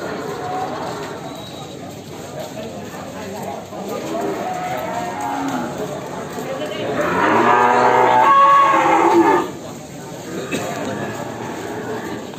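Cattle lowing at a busy calf market, one loud drawn-out moo rising over crowd chatter and nearby voices, with other cattle calls fainter in the background.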